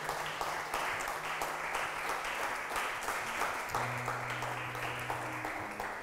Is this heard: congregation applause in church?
yes